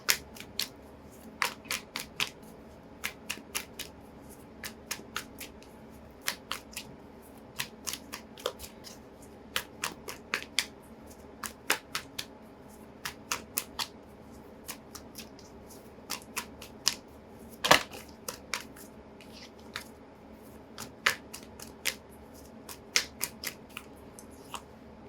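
A deck of playing cards is shuffled again and again, each riffle giving a crisp, snappy flutter of card edges that repeats in a steady pattern over a quiet background, close and clear, with no talking.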